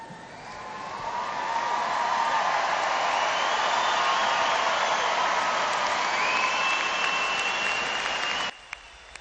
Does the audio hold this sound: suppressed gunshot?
no